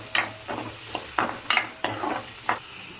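Onions being lightly fried in a kadai for a meal maker curry sizzle quietly beneath a series of about eight crisp spatula strokes and scrapes, close and rhythmic.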